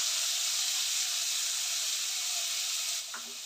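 Chopped onion tipped into hot oil already crackling with cumin seeds, giving a steady loud sizzle and hiss that eases slightly near the end.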